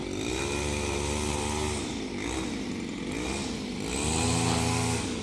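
A grass-cutting machine runs through a morning mowing session, its engine droning loud and close without a break, the pitch rising and falling as it works, with no talk.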